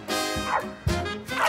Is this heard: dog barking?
yes